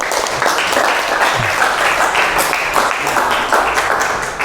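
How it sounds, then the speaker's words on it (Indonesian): Sustained applause from a class of students, steady dense clapping filling the whole stretch, loud and close. "Beri tepuk tangan dulu"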